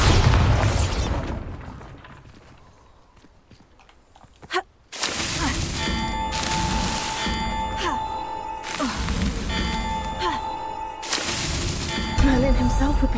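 A Bombarda spell in Hogwarts Legacy sets off a heavy explosive boom. Rumbling blasts and crackling debris follow over a dense game soundtrack, and speech can be heard in between.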